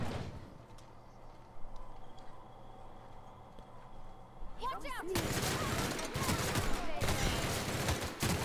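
Gunfire erupts in a fight in The Outer Worlds, scattered shots early, then a dense sustained burst of rapid fire with a voice talking over it.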